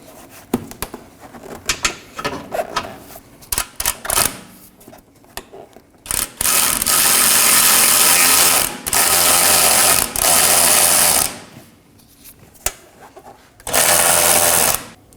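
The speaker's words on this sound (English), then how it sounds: "Support the other side of the bolt with a wrench and finish removing the nut." Ratchet wrench working a bolt's nut on a 2018-2024 Toyota Camry rear lower control arm, in several loud bursts of fast clicking with quieter handling noise between them.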